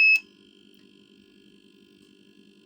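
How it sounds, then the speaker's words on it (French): A human presence detector's alarm: a brief, sharp high beep at the start, then a faint, steady high tone held over a low buzzing hum, with no voices. "il y a l'alarme aussi"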